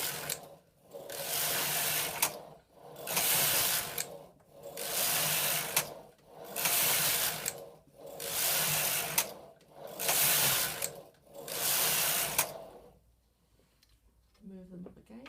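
A Silver Reed knitting machine knits 1x1 rib with edge weights hung on the fabric, its carriage making six rhythmic rasping sweeps with short gaps between, then stopping into near quiet.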